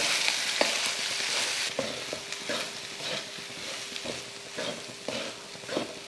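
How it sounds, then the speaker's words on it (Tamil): Rice tossed with pepper powder, coriander leaves and curry leaves in a pan over low heat, a spatula scraping in steady repeated strokes over a soft continuous sizzle, close and moderately loud. "அடுப்பை சிம்மில் வச்சுட்டு நல்லா கலந்து விட்டுருவோம்"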